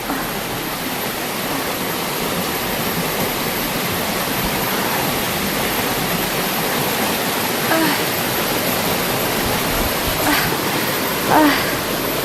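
A creek in flowing water: a steady, dense rushing wash of water noise close by, with a few faint brief sounds near the end.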